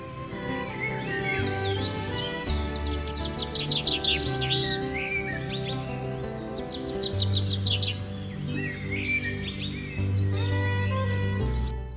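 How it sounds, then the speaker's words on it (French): Birds singing in a natural setting, with bright chirping trills and whistled phrases close by over several seconds, set against a sustained low musical drone with shifting tones. "Vous entendrez les mots de bienvenue chantés par ces oiseaux."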